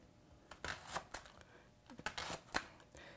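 Asparagus spears being cut with a knife on a board in a home kitchen, a series of sharp crisp snips in uneven pairs, close and fairly quiet, with no talking.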